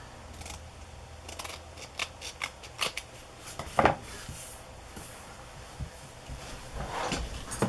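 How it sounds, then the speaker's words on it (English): Scissors make small trims at both ends of a strip of journal paper, a series of quiet, sharp snips and light paper rustles spread irregularly across a soft, close background. "So I'm going to just trim a tiny bit off at both ends."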